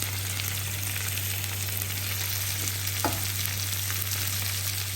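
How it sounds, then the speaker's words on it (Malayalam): Marinated prawns frying in butter in a pan, a steady, even sizzle with a brief stir around the middle and no talk over it. "എന്നിട്ട് ഇതിനകത്ത് കിടന്ന ബട്ടറിലും ഇതിലും കിടന്ന് അത് നന്നായിട്ടൊന്ന് ഫ്രൈ ആയി വരണം"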